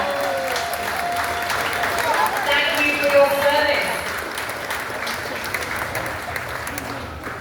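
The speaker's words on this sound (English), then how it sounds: "please accept a huge round of applause from all of us here right now." Steady applause from an audience at a veterans tribute ceremony aboard the cruise ship Wonder of the Seas, a dense patter of many hands clapping continuously while a voice speaks briefly over it.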